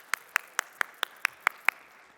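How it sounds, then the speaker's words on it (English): Eight sharp, evenly spaced hand claps ring out at a conference session of the Caribbean Investment Forum 2023, each distinct and isolated in an otherwise quiet room. "I want y'all to be as robust with your applause as possible"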